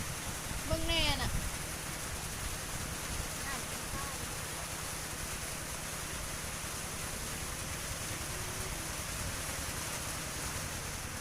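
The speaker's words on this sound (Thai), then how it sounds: "โอ้ฝนตกเอาแท้เอาว่าเนาะ" Heavy rain pours steadily over a flooded area, a dense unbroken hiss that fills the whole scene, with a brief voice near the start.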